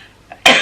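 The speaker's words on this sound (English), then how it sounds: "obviously I just had to have a cough then" A single sharp cough bursts out close and loud after a brief near-silent pause, standing alone with no talk around it.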